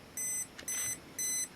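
An Olympus XA2 compact camera's self-timer counts down with three evenly spaced high electronic beep bursts, each about a quarter second long, clean and close in a quiet room.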